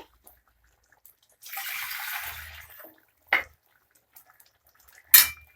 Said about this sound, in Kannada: ನಾನೊಂದು ಅರ್ಧ ಲೀಟ್ರ್ ನೀರು ಹಾಕ್ಕೊತಾ ಇದ್ದೀನಿ.